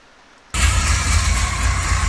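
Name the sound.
hot rod engine running, a couple cylinders misfiring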